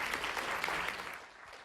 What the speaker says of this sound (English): So let's give him one big round of applause.